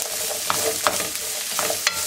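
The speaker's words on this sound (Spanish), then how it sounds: "cuando ya está caliente voy a agregar la cebolla. y a fuego medio la voy a sofreír" Onion sautéing in a pan over medium heat: a steady close sizzle with a few sharp scraping stir strokes about every second, no voices.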